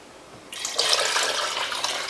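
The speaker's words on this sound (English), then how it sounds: "So I'm going to put in the water." Water pours into a pot of chicken soup on the stove as a steady splashing rush that begins suddenly and holds, close and moderately loud, with no voices.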